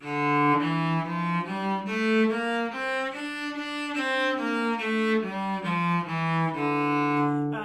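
Bowed cello notes step up and back down a D natural minor scale, evenly paced and sustained, played alone in a warm, close tone.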